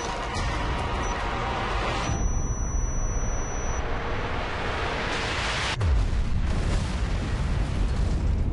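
A planted bomb goes off in Deus Ex: Human Revolution, a dense roaring blast that fills the clip, with a second heavy boom hitting near the end and rumbling on without any talk.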